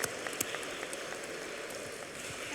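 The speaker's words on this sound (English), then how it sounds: "big round of applause here for Chris Intracchio, our IT and security manager" An audience at a company annual meeting claps for a speaker, a steady dense patter of many hands, moderately near, with no voices over it.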